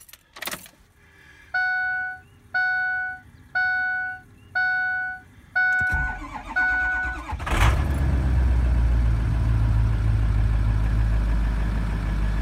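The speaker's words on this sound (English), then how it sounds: "let's start this truck up, see what it says on the dash" A 2007 Ford Super Duty truck with the 6.0 engine and water in the fuel starts up: a series of rhythmic dash warning chimes, a brief crank, then the engine catches and settles into a loud, steady idle.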